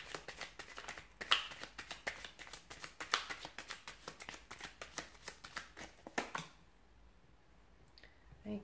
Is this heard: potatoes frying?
no